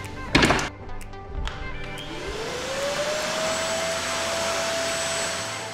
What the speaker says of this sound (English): The idea here is the wet and dry vacuum, you can suck up all of that liquid